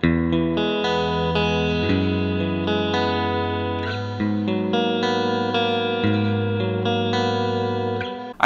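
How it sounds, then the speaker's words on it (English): A clean electric guitar tone from a virtual amp simulator with chorus-like shimmer and light echo plays ringing, layered chords and arpeggios that sustain evenly at a steady moderate volume, with no voices. "And I had to know what the clean tone would sound like now."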